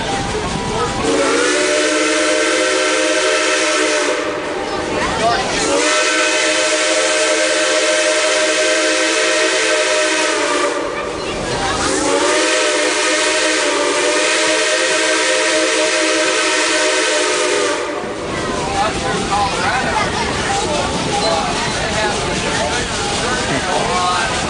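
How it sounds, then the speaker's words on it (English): A loud steam train whistle sounds in three long, sustained blasts separated by short breaks, followed by hissing steam and rumble, at the Texas State Railroad. "Well, that's a nice whistle."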